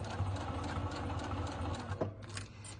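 A sewing machine runs steadily while stitching a printed vinyl mini notebook cover, its fast mechanical hum continuous and close, with a brief change in pace near the end.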